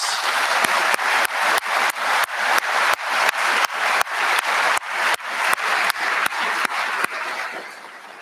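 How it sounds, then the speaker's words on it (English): A graduation audience applauds the director of admissions, a broad wash of clapping hands that pulses with repeated surges, then thins and fades toward the end. "Please give her a round of applause."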